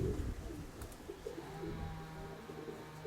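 A pied Krymak pigeon gives soft, repeated low coos close by, a steady quiet rumbling call with no talking.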